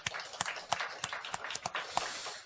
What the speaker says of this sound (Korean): 우리 박수로 한번 영광 드리시기 바랍니다.